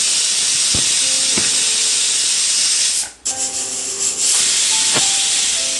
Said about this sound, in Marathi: इथे मी शिट्या करून घेतली आहे